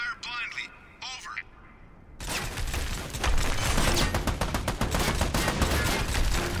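Suppressive gunfire in the video game Army of Two, starting after a brief voice and radio-like chatter and turning into a dense, continuous rattle of automatic weapons fire that stays loud to the end.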